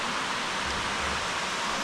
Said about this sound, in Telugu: పైనుంచి వాటర్ మనం చూసాం కదా, అదంతా ఇలా కిందకి జారుకుంటూ వస్తుంది.